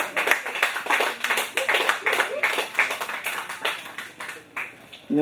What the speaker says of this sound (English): Clap for the fucking poet.